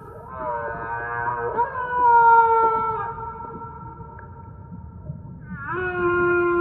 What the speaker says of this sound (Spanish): La ballena está en el mar.